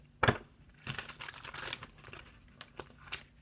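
Tarot cards being shuffled by hand, a close, soft run of papery riffles and flicks with one sharper snap near the start, heard alone without talk.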